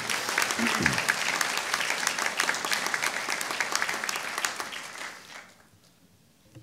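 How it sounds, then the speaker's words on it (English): An audience claps at a Pasadena police promotions ceremony, a full, lively round of applause that carries for several seconds and then fades away into near quiet. "give them a round of applause"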